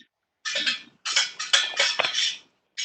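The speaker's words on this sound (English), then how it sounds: "I'm not exactly sure who has the loud pots and pans in the background, but it's a little bit loud." Loud pots and pans clattering somewhere in the background during an online class, bursts of bright metallic rattling and scraping in several clusters separated by short silences, harsh and close.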